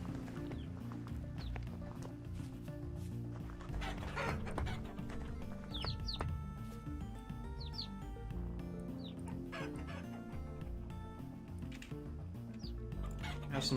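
Chickens cluck in the farming survival game Vintage Story, with several short calls and chirps scattered over a steady layer of game music and ambience, moderately close.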